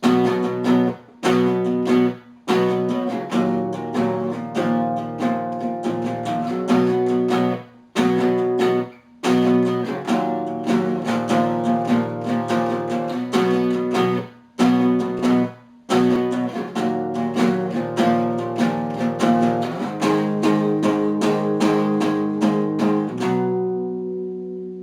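Guitar strums the chorus of a song in rhythmic chord bursts with brief stops between phrases, played alone and close, ending on a ringing chord that fades out.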